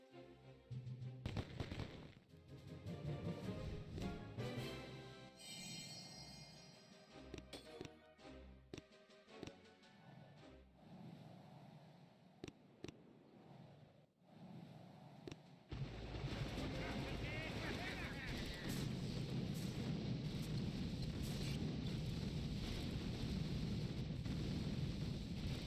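Rocket launchers and troops attack defenses in the Boom Beach mobile game, with rapid gunfire bursts and explosive booms, followed by a dense, continuous roar of battle.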